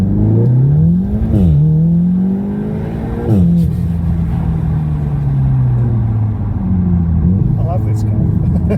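An Audi S3 8V fitted with a billet aluminium dogbone mount insert accelerates hard in first gear, engine note climbing steeply with shifts and a long sustained drone, loud and close from inside the cabin, with people talking over it.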